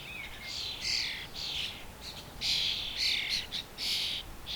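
Garden birds including a female blackbird and young birds chirping in bursts of bright, repeated calls, fairly close and clear against quiet outdoor background, with no talk.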